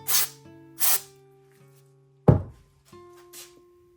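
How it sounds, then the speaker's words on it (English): Two short hissing bursts of CRC Clean-r-carb carburetor cleaner sprayed onto a fuel injector, followed by a hard clunk and a faint third hiss, close up against a quiet background hum. "follow up with CRC Clean-r-carb carburetor cleaner to clean all of the soapy water off of the fuel injector"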